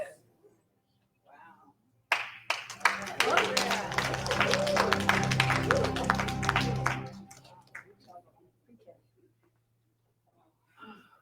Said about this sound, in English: Applauding a prayer.